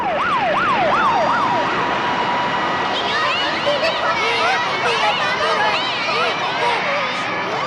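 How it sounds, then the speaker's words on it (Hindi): A wailing fire brigade siren sweeps up and down in loud repeated cycles, shifting to a faster warbling pattern partway through, over a dense backdrop of busy street noise and scattered voices. "ये फायर ब्रिगेड की आवाज"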